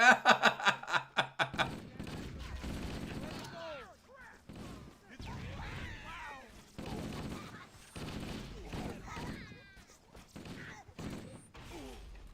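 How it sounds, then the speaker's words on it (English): Gunfire exchanged between enemies in Halo: Combat Evolved (20th Anniversary campaign): a rapid burst of shots at the start, then scattered weapon fire and game effects with chirping alien sounds over the following seconds. "they were shooting each other"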